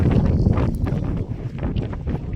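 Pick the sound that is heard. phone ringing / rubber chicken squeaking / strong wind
strong wind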